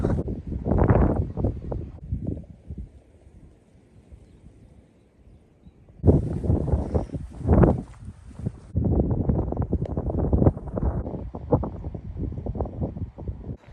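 Loud, gusty wind outdoors buffeting the microphone in heavy rumbling bursts, easing for a couple of seconds before roaring back strongly.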